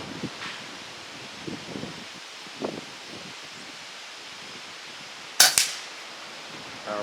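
Single sharp gunshot at a homemade shoot-to-reset target about 25 yards away, sounding once outdoors over steady wind and rustling, with a brief ringing tail.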